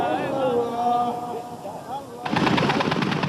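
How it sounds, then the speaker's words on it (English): Machine gun fire erupts in combat between rebel fighters and Gaddafi loyalists near Tripoli, a sudden loud burst of rapid shots breaking in after a stretch of chanting voices and background noise. "Faced with the machine gun fire of the Gaddafi loyalists, the rebels run for cover."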